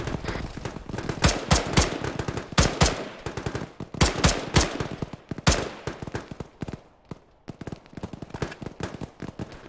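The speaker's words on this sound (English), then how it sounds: "They're shooting back again." Enemy gunfire crackles in Arma during a large 120-player team battle, dense rapid volleys of automatic and single shots at varying distances that keep pouring in with brief pauses.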